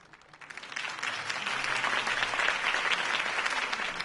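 Video game crowd breaks into applause that swells quickly and holds steady, a dense wash of clapping close by.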